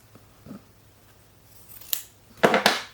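Scissors snipping through paper while assembling a handmade craft book, a few faint early cuts followed by two louder, crisp snips close by near the end, with no talking.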